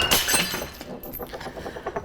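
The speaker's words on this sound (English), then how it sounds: "Broken glass." Glass smashes against an epoxy-coated counter in a durability test: a loud, close shatter followed by a scatter of tinkling shards settling over the next second or two.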